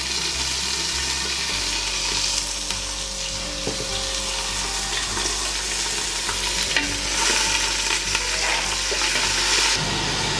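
Ginger paste and green chilies sizzling in hot oil in a frying pan while cooking masoor dal tadka, a steady close crackle and hiss with occasional stirring scrapes, no voices.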